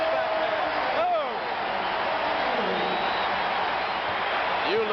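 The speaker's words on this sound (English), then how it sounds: "Listen to the crowd" A basketball arena crowd roars in a steady, dense wash of cheering during a Julius Erving and Moses Malone game in Philadelphia, with a commentator talking over the noise.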